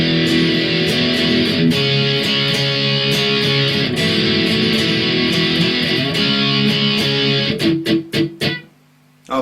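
Loud, gritty electric guitar chords strummed in a steady rhythm from a song, ending with a few sharp stabs before cutting off.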